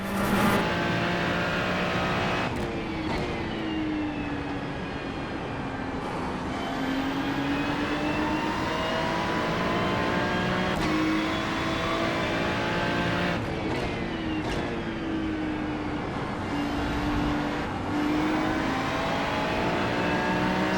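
GT3 race car at Watkins Glen in a racing video game, its engine droning loudly and continuously, pitch climbing through each gear and dropping sharply at upshifts and braking, with several quick gear changes in succession.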